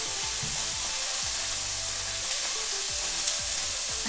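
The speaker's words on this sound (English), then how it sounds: "Hear that sizzle." Sausages sizzle steadily in oil in a hot pan, a constant bright crackling hiss with occasional scraping and clinking from stirring.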